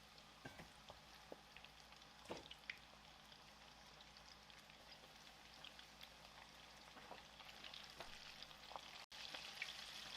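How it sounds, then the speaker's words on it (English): Chicken pieces deep frying in a pot of hot oil, a steady soft sizzle and crackle with scattered pops, faint and constant throughout. "We're going to fry them in 2 separate batches."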